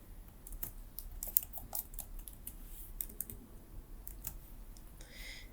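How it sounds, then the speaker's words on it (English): Fingers type a password on a computer keyboard, a quiet, close run of light irregular key clicks with brief pauses and no talking. "Now you have to type some password here."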